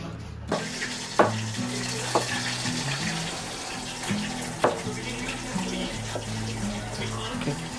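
Karimeen fish frying on a tawa, with a steady sizzle and occasional sharp taps of a utensil against the pan while faint background tones run underneath.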